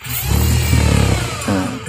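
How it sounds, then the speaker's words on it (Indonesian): An electric sanding machine runs loud and close with a steady motor drone and rough grinding texture, shifting slightly in pitch partway through; no talking. "Ini saya pakai mesin amplas ya."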